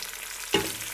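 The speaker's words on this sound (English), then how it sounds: "So we're gonna saute them until they become" Leeks sauté in a pan with a soft, even hiss, cut by a single quick scraping stir.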